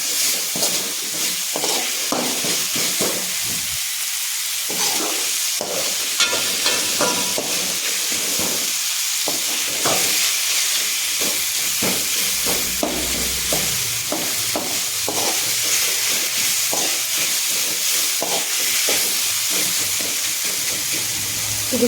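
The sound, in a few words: tomato masala frying in oil while stirred for egg gravy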